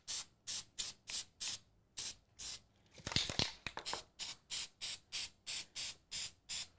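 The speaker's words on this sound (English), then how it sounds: "you're just gonna give some light sprays" A Flex Seal spray can gives light, even bursts onto a doormat, a regular series of short hissing sprays about twice a second, broken once by a longer rustling, scraping stretch.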